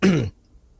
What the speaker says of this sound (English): my gosh, I'm coughing.